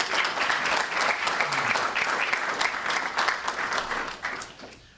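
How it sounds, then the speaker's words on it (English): Sustained crowd applause at a press event for Myasthenia Gravis Month in Connecticut, dense steady clapping from many hands filling the room for several seconds before starting to taper, with no speech over it. "Let's thank them and give them a round of applause."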